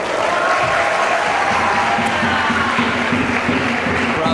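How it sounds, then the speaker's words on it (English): Steady, dense applause from a crowd at a school science show, loud and continuous throughout with a faint voice underneath. "let's give him another round of applause"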